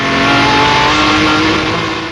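A Jaguar D-Type race car on a circuit roars loudly and close up, its engine droning steadily as it holds a gear, with no voices.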